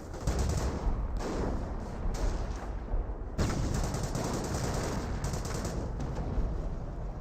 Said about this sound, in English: Grenadiers are seeing quite a bit of fire now.